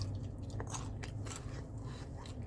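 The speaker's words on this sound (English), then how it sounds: "Good crunch and management on that pizza" Close, crisp crunching from someone biting into and chewing a crunchy Kwik Trip pizza crust, a few sharp bites over steady chewing with no talk.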